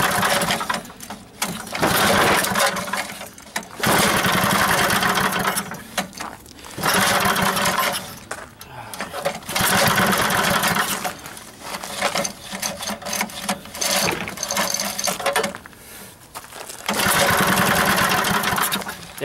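A small engine with its choke set is started, producing repeated loud, close bursts of rough sputtering engine noise broken by short pauses as it catches and dies.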